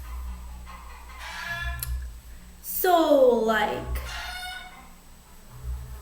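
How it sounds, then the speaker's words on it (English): Chicken clucking in the background of a room, a couple of short squawking calls around the middle over low-level hum while a person talks briefly. "I'm sorry about the chicken in the background"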